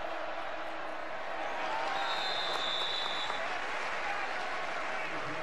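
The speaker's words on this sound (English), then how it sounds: "this crowd has been in it all day long" Stadium crowd at a Baylor vs Kansas State college football game, a constant roar of cheering and applause under a commentator's voice, with a faint whistle-like tone in the middle.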